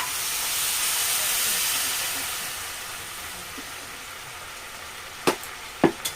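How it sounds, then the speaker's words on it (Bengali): Water poured onto sautéed pumpkin in a hot pan bursts into a loud steamy hiss that slowly fades, followed near the end by a couple of sharp utensil knocks against the pan. "কুমড়োটা ভালোভাবে কষানো হয়ে গেছে এবারে আমি এর মধ্যে দিয়ে দেবো জল"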